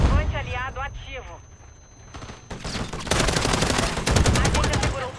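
Gunfire in the video game Call of Duty MW3, heard as dense rapid bursts of automatic fire through the second half, loud and close, after quieter mechanical clatter and a voice at the start.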